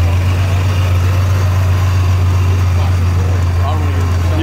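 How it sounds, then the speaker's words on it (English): A supercharged Nissan 370Z with a centrifugal supercharger idles loudly at a cars-and-coffee meet, a steady, deep engine drone that holds constant throughout while people talk nearby. "This thing sounds pretty rowdy, brother. Supercharged 370Z."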